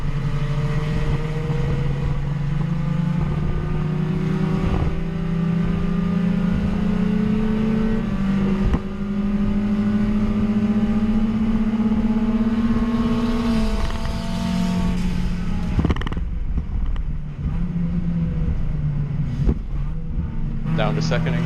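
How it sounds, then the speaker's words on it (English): A Spec Miata-class race car engine drones loud and close from the cockpit during a sprint race, pitch climbing and then dropping sharply as the driver downshifts to second for a turn, with brief clunks around the shift. "Down to 2nd again in that turn."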